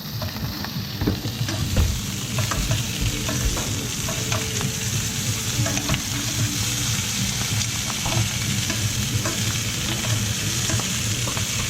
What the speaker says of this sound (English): So here we're, all right, searing up the sausages.